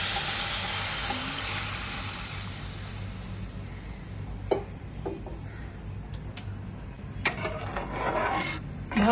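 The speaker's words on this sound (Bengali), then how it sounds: "ভালো করে জলের সাথে মশলাটা একটু কষিয়ে নেব" Spices for shorshe paneer sautéing in a pan with a little paneer water added, a steady sizzle that eases into a softer simmer, with occasional sharp scrapes and clinks of stirring.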